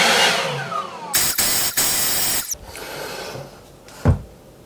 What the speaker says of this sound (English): Go ahead and hit our blower right now.